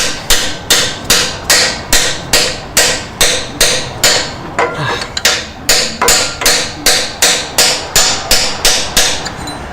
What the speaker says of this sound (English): I'm not going to drive that bush right in, I'm just going to go up to the little chamfer there